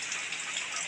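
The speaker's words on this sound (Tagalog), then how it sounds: "Ulan din sa labas." Rain falling outside, heard as a soft, steady hiss of drops on surfaces at a low level, with no talking.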